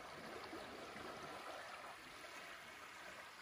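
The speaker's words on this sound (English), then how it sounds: "The water is moving" A moving stream at a trail crossing in Kentucky gives off a faint, steady rush of flowing water, even and continuous with no voices over it.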